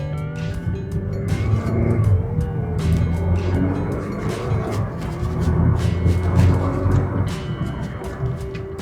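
A Mazda CX-5 in tiptronic mode pulls away from first gear, its engine droning loudly and steadily from close inside the cabin, with continuous road and tyre noise throughout.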